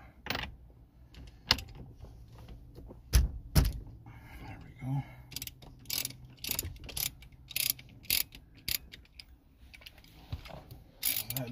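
A ratchet with a 19 mm socket on an extension loosens a nut on a 2005 Toyota Prius, giving close, sharp bursts of rapid pawl clicks separated by short pauses and heavier clunks.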